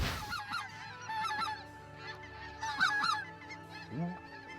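Specklebelly geese honk repeatedly in overlapping calls, a flock circling at moderate distance with no talking.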